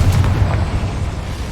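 A Confringo fire spell explodes in the video game Hogwarts Legacy, a loud, dense boom with heavy low rumble that sustains across the moment with no talk.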